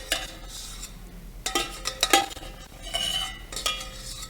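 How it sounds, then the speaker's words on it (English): Sauce being stirred and scraped around the bottom of a pot with a utensil, uneven swishing and clinking strokes with a faint sizzle, close and moderately loud, no talking. "And so you can also mix it about. And make sure you get all of that good stuff at the bottom."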